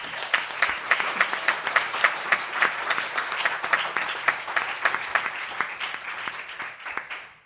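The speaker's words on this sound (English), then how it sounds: "So I really want to give a round of applause for Michael." An audience applauds for Michael at a student pre-law event, a dense steady round of clapping from a mid-sized crowd that holds for several seconds before tailing off at the end.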